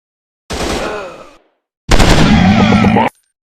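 Two bursts of rapid automatic gunfire from a video game firefight at targets: a shorter volley followed, after a brief pause, by a longer, louder one. Both are close and sustained, with no speech between them.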